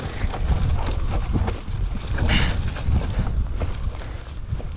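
Strong wind buffets the microphone in loud, gusty bursts on a high mountain trail near Gorakshep on the route to Everest Base Camp, roaring steadily with a few crunching steps underneath.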